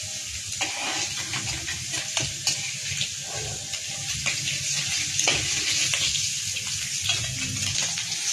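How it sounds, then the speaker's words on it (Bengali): Fish frying in a home kitchen pan, a steady close sizzle and hiss with faint scraping and stirring, spatter crackles scattered throughout. "মাছটাও এই পাশে ভাজা হচ্ছে"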